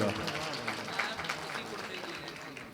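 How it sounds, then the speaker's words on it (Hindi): An audience at a mushaira poetry gathering in Dehradun bursts into applause, a dense, steady patter of many hands filling the room with a few voices mixed in. "आपके लिए एक बार सब लोग ताली बजा दीजिए मैडम के लिए"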